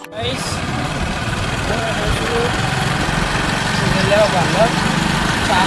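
A motorbike engine idles and runs steadily throughout, a constant mid-pitched rumble with faint voices mixed in.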